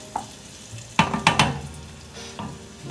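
Eggs frying in hot oil while being stirred in a pan, with a soft sizzle broken by three quick, loud scrapes of the utensil in a row and a lighter scrape near the end.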